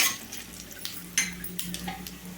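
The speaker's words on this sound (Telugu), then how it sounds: "రెండు ఎండుమిరపకాయలు కొంచెం ఇంగు అండి ఫ్రై అవ్వాలి" Dried red chillies, asafoetida and cumin fry in hot oil in a pan for a potato fry. There is a close, steady low sizzle with scattered light scrapes and clinks from stirring.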